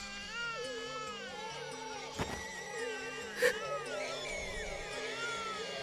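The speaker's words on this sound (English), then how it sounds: "Is this the sound of a baby crying?" A baby cries in the video game CHAOS;CHILD, a thin, wavering, cat-like wail that rises and falls over a low background hum, with two brief louder thumps partway through.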